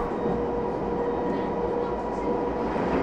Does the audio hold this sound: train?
yes